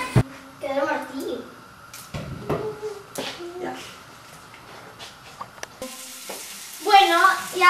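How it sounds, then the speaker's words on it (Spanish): Doritos-breaded chicken fries in oil in a pan, giving a soft continuous sizzle with occasional scraping and clattering as the pieces are turned, while people talk over it and the sizzle swells louder toward the end. "Bueno, y ahora se lo estamos friendo."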